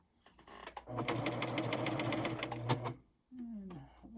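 A sewing machine fitted with a piping and cording foot stitches cording in one close, steady burst of rapid needle clatter lasting about two seconds, followed by a person speaking softly.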